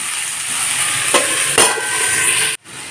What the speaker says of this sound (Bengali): ভালো করে কুমড়োর আলুটাকে ভাজা ভাজা করে নেব